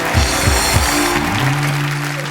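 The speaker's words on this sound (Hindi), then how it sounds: "जोरदार तालियां जैकी और टाइगर के लिए।" An audience applauds Jackie and Tiger on a Hindi comedy show stage, loud sustained clapping blended with music and crowd noise, dense and continuous.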